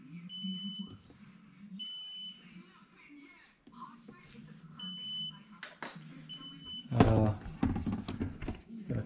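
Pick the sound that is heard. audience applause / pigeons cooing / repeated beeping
repeated beeping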